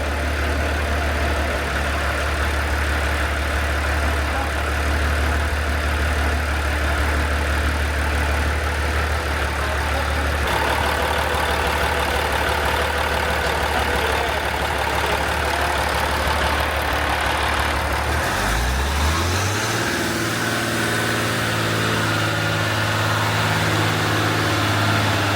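A tractor engine idles steadily with a low, continuous rumble and chug, close by and loud, and it changes in pitch and settles lower near the end. No one speaks.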